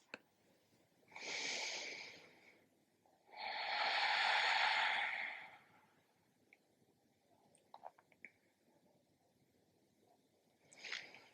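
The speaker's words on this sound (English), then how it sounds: "The slowness of the breath." Slow, deep breaths during a yoga relaxation in Shavasana: two long, airy exhalations in the first half, followed by quieter stillness with small faint sounds and a brief final breath near the end.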